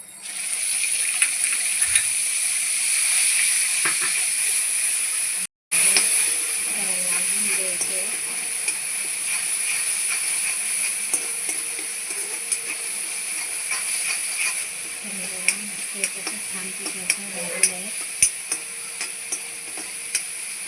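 Chopped onion goes into hot oil for a potato curry and hisses in a steady close sizzle with faint ticks, broken by a brief gap and later some clinks of a utensil, while a voice talks over it.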